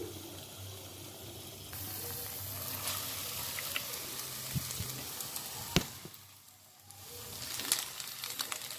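Boiled noodles are mixed with vegetables in a hot pan, giving a steady soft sizzle with scraping and stirring clatter and a few sharp utensil knocks. It stays close and fairly quiet, with no talking.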